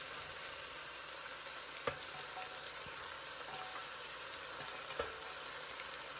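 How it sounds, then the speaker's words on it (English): Potatoes and carrots sizzle in a hot pan for chicken curry, a steady close hiss of frying with a couple of faint clicks from stirring. "So now I'm going to add my potatoes and carrots"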